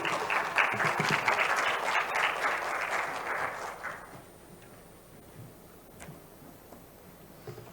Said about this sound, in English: Please clap for him as he comes on stage.